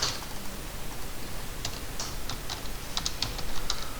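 Soft computer keyboard keystrokes, mostly the Enter key, with a few isolated clicks scattered irregularly, fairly close and quiet against a faint background hiss.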